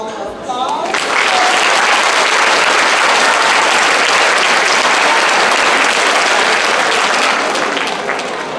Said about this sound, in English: If you could give Team 1 all the applause.